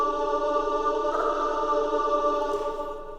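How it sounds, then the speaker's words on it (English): A sustained sung vowel drenched in heavy reverb forms a smooth, washy tonal drone that holds steady for a few seconds before fading, with no other sounds. "if you add some reverb and you really drown it in that reverb like this"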